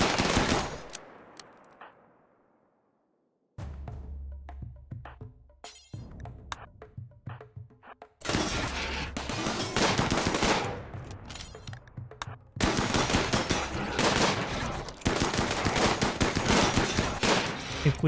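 RimWorld combat gunfire: a fading burst, a few seconds of near silence, then scattered shots building into dense, loud, sustained rapid-fire volleys with no voices.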